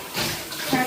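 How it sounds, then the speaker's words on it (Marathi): Dirty water from washing goat tripe is poured out in a short splashing gush, close and brief, rising and falling within a second. "पाणी घाण फेकून द्यायचं."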